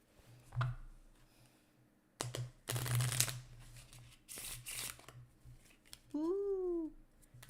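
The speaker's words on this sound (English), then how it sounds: "Shuffle this." Playing cards are shuffled during a solo tabletop game, heard as a few close, crisp riffling bursts separated by quiet gaps, with a short vocal sound near the end.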